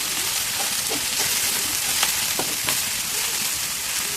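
Broad beans (chikkudukaya) fry in coconut oil in a pan, giving a steady close sizzle with small pops and crackles spread through, no voices.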